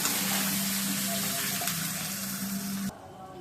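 Fish sizzles steadily in hot oil in a home kitchen, a dense, close frying hiss with a low steady hum beneath, running unbroken for about three seconds before cutting off abruptly.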